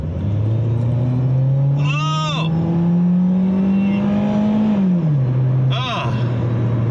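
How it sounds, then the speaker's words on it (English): A Mustang with a four-speed automatic revs hard, its engine note climbing steadily and then dropping, while a few short bursts of wheel squeal cut through. The sound is loud and close throughout. "I'm serious, this thing can squeal the wheels."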